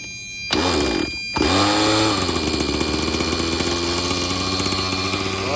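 A SAB Goblin Raw 580 nitro RC helicopter engine catches after a brief crank, stalls for an instant, then fires up into a loud, buzzing high-pitched whine that holds steady.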